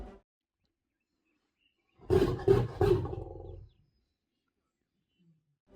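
A lion gives a short burst of three or four loud, rasping roars in close succession, close by, with silence before and after.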